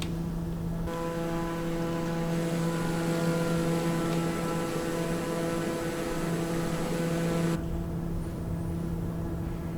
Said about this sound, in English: Do right now, flaps take off and lower the gear.